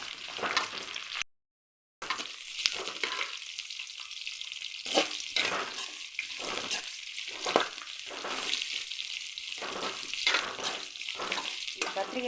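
Eggplant pieces sautéing in hot oil for a Tamil kara kulambu, a steady close sizzle broken by repeated stirring scrapes, with a brief gap of silence early on.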